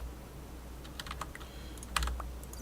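A loud computer keyboard clacks with irregular, quick keystrokes, heard faintly against a low background hum.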